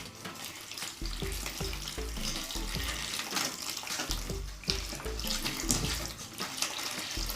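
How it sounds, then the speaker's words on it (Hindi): Water pours steadily into a gram flour mixture for Ajmer-style kadhi, a continuous close splashing stream with faint clinks and stirring sounds mixed in. "अब हमें सीधा सिंपल इसमें पानी डालना है।"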